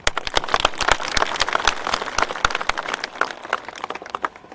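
Applause from an audience at a community speaking event in Kirundi, many hands clapping in a dense, steady burst of sharp overlapping claps throughout, fairly close and loud, with no talking over it.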